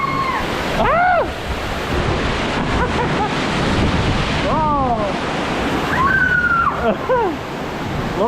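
A log flume ride at Parc Astérix plunges through a waterfall and rapids, giving a steady loud rush of spraying water with excited riders shouting and squealing over it throughout.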